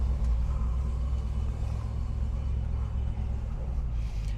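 A 1966 Ford Mustang GT Fastback on the road, its engine giving a steady low rumble at an even, moderate level, heard from inside the moving car with no one talking.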